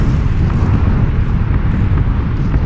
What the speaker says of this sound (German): Ich guck mir jetzt das, die Explosion an.